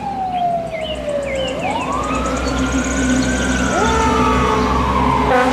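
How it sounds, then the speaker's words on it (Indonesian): A toy fire truck siren wails continuously, rising and falling in long sweeps over a steady rumbling background, loud and close, with faint chirpy electronic sounds on top. "Mobil truk pemadam kebakaran."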